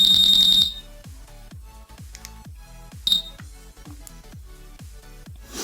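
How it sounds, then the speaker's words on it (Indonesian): A shrill electronic buzzer on a Honda Vario 150 keyless alarm module beeps in a fast rapid burst, then a series of sharp clicks and a short second beep follow. "maka di sini akan bunyi dari buzzer"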